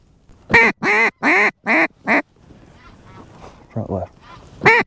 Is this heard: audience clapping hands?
no